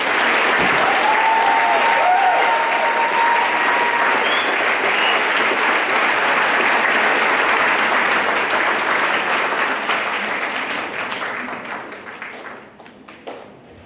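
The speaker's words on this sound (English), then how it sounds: "Now for a big round of applause" A large crowd applauds loudly and steadily at a high school National Honor Society induction ceremony, the clapping sustained for many seconds before tapering off near the end.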